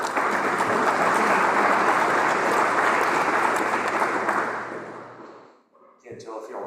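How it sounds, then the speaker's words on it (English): A room of Rotary Club members at a luncheon meeting applauds steadily and loudly for about four and a half seconds, then the clapping fades out, leaving a quiet pause and a few faint rustles. "Can't tell if y'all were clapping that he was sitting down or that I was standing up"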